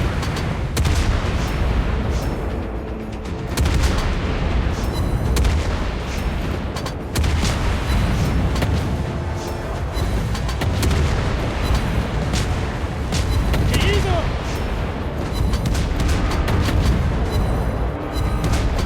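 A warship in World of Warships Blitz firing high-explosive shells at a fleeing battleship, steady loud booming salvos and explosions over constant battle noise with no talk.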